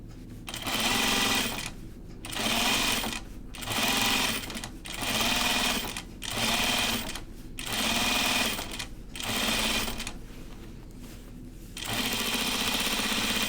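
A sewing machine top stitches a garment in repeated bursts of fast, steady running, about a second or so each, separated by brief pauses, then one longer continuous run at the end; close and loud, with no talking.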